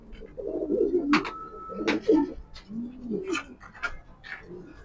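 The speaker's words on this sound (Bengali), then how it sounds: "এটা হলো মাদি কবুতর, লাল চোখের।" A red-eyed female Afsan grizzle pigeon coos in repeated rolling calls, close and clear, broken by brief sharp clicks and wing or handling noises.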